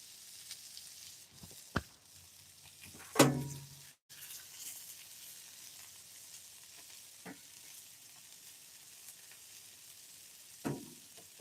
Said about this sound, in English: The peppers always get such a nice flavor when you throw them on the griddle like that.